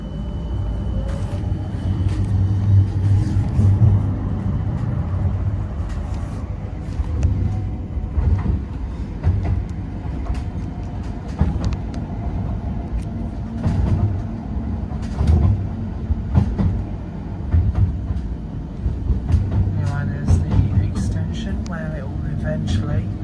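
West Midlands Metro Line 1 tram running on rails between Wolverhampton and the Jewellery Quarter, a steady low rumble and rolling hum throughout with intermittent clicks and rattles, and a voice speaking over it at times.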